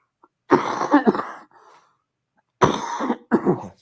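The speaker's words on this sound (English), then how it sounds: "I always cough, but not like this." Two separate bursts of harsh coughing from a man with COVID, a couple of rough coughs, then a pause, then two more loud coughs, close and with no talking.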